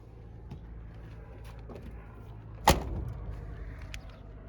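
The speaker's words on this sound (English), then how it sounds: "That sound of the door closing reminds me very vividly of my growing up years." A single solid thump of a classic pickup truck door shutting partway through, set against quiet outdoor background hum at a desert auto salvage yard.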